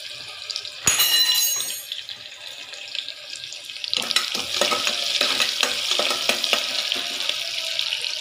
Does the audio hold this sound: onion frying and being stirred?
yes